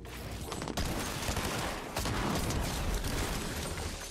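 Rapid gunfire bursts in an Unreal speedrun shooter, a dense, loud fusillade of overlapping shots sustained across the whole stretch, with a brief dip before the firing resumes.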